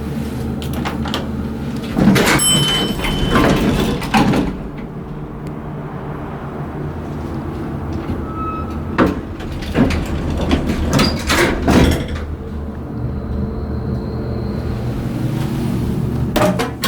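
Amtech-modernized hydraulic elevator doors at a Portland apartment building sliding and thudding, with clunks and rattling bursts at intervals over a steady mechanical hum, heard up close.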